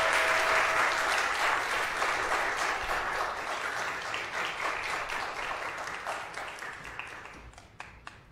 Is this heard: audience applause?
yes